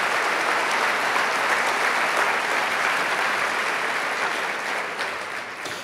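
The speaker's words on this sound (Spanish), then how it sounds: "Denle un aplauso fuerte a Cristo Jesús." A church congregation claps together in loud, steady, dense applause that runs unbroken and then tapers slightly at the end.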